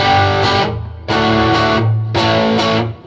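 A Vox small tube guitar amp with the gain cranked into overdrive, three loud distorted chords struck and left ringing, each decaying before the next, with no voices.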